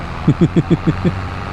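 Tractor engine in the Farming Simulator 22 game chugs after a downshift into second while pulling a heavy load, with six steady low pulses over a constant rumble.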